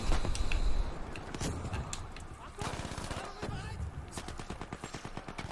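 Rapid machine gun fire in the video game Battlefield 5, with repeated close bursts and a steady rattling stream of shots, mixed with speech in the background.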